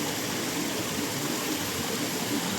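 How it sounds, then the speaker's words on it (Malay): Steady broadband rush of river water flowing nearby, continuous and even with no breaks, heard from a shaded riverside spot under trees in Negeri Sembilan. "Lepak dalam hammock sambil menikmati bunyi air sungai."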